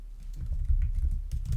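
Rapid, steady keystrokes on a computer keyboard while entering HTML text for a CSS tutorial, close and fairly loud, with a short pause before a fresh burst of clicking.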